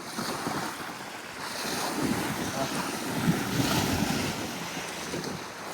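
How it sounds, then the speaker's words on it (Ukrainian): Strong wind roars steadily across a lake shore, buffeting the microphone, while waves around half a metre high wash and splash nearby in a continuous loud rush. "Дуже сильний вітер сьогодні."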